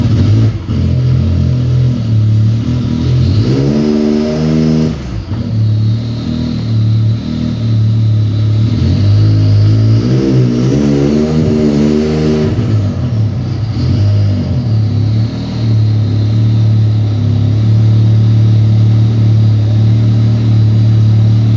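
Can-Am X3 side-by-side engine revving hard in repeated bursts, rising and falling pitch close by, with a steady intercooler fan whirring underneath throughout.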